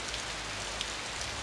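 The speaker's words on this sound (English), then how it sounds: "it's raining and everything" Rain from the video game Otogirisou: Rebirth makes a steady, even hiss of falling drops, continuous and fairly loud throughout, with no voices.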